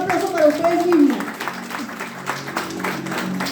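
Church audience applauding at a women's service, a steady spread of clapping throughout with a voice speaking over it at the start.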